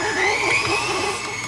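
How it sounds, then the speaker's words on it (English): An electric mixer whips cream cheese, sugar and vanilla for a dessert batter, giving a steady, continuous motor whir that stays close and even throughout. "And then I'll just whip this till it's really fluffy."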